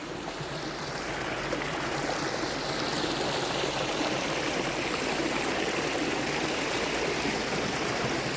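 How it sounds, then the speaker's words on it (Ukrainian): Small waterfall splashing into a clear stream in a Carpathian forest, a steady, close rushing and gurgling of water that continues unbroken with no voices. "І от туди такий водоспадик."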